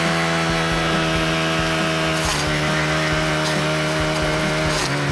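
A brush cutter held at full throttle while its blade forces through a cut, a loud, steady, high-revving engine whine with a blade rasp, close and continuous without a break.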